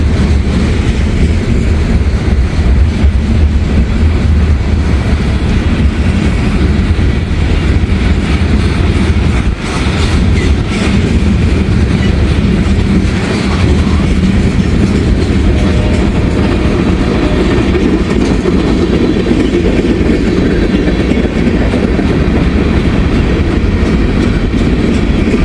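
A long freight train rolls steadily past nearby, a loud continuous rumble with faint clickety-clack of wagons and no break in the sound.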